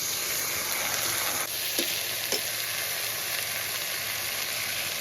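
Toor dal tipped into a pan of fried onion and potatoes sizzles loudly and continuously, with a couple of brief stirring scrapes partway through.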